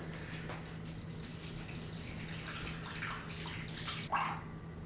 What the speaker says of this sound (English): now I think we need 350 grams of water. So I'm just using my filtered water.